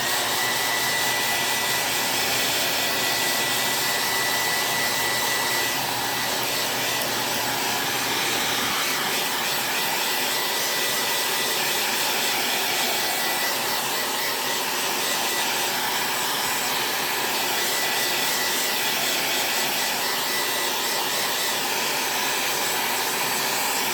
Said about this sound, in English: So now I'm going to dry this. So it's about to get loud again.